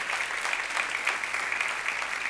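A congregation applauds during a celebration service in a church, a steady, dense wash of clapping that holds at an even level for a couple of seconds.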